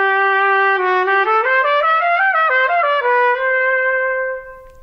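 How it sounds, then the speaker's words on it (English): A trumpet played with its mouthpiece inserted gives a clear, bright, steady tone that steps up and down through a short run of notes before holding a final note and fading. "When you put the mouthpiece into the trumpet, it sounds like this."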